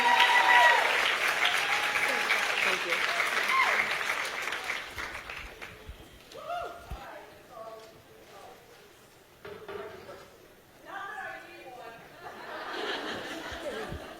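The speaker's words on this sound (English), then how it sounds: "you ladies need to give her the biggest round of applause that you could possibly give her" A conference audience of women gives a big round of applause, loud at first and then fading after about five seconds into scattered claps, laughter and chatter.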